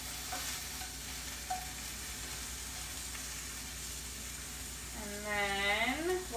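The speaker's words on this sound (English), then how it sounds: "we're starting to brown here, so we're gonna flip some of them over" Kale salad ingredients browning in a hot pan make a steady, close frying sizzle throughout, with a short rising whine near the end.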